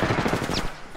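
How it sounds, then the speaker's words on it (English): Rapid enemy gunfire in the Apex Legends game, a quick close burst of shots lasting about a second. "They're shooting at me."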